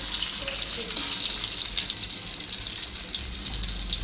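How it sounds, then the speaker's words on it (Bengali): Beef kofta meatballs frying in hot oil, giving a steady, dense sizzle that holds evenly from start to finish, close and fairly loud, with no voices. "এখন এগুলোকে কোফতাগুলোকে ভেজে নেওয়া হচ্ছে"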